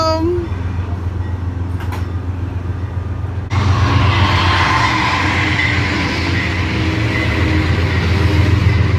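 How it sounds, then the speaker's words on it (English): A short train rumbles beneath an elevated station viewpoint, a low steady roar that swells louder partway through as it passes close below, with light rattling on top. "Not a very big train."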